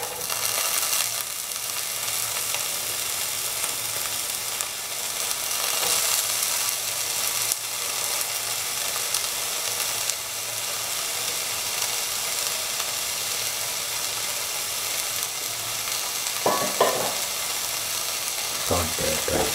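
Dry shrimps fry in a pan for a Kerala dry prawn and green mango stew, giving a steady close sizzle throughout with a few brief clinks of stirring near the end.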